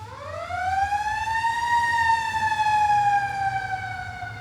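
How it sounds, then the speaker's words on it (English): A fire truck siren wails steadily, a loud rising-and-falling tone with strong harmonics, passing close with a low engine rumble underneath and no talking. "Yep, it's a fire truck."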